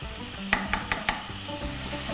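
Soup ingredients with a spoonful of ketchup fry together in a pan, a steady close sizzle broken by four quick scraping stirs of a utensil against the pan.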